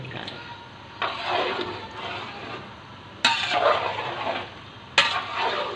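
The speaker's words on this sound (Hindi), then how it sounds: "अब इसको भूनना है अच्छी तरीके से" Tomato masala for a gourd curry being fried and stirred in a pan, a continuous close sizzle with three sudden louder surges as the mixture is turned, no voices.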